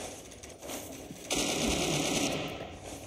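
Rapid mechanical firing burst from a skull H weapon in an SCP role-play video game, a dense rattling stream starting about a third of the way in and sustained for nearly two seconds at moderate level, with a faint earlier rattle.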